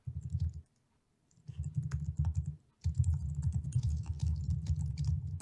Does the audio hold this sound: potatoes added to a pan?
no